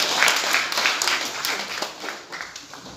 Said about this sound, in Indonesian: Tepuk tangan untuk anak-anak kita.